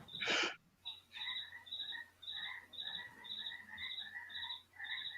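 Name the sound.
frogs croaking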